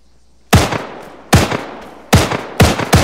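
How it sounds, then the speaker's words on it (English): Shots from a beanbag shotgun in a military shooter video game: four loud, sharp blasts, each with a short ringing tail, at uneven intervals of about a second. No one speaks. "They're still firing at the guys running away there."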